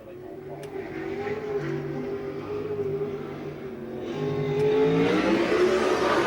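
A USAC sprint car with a Ford engine, the 4J, runs a qualifying lap at Rossburg, Ohio, its engine a loud, continuous drone that climbs in pitch and volume toward the end.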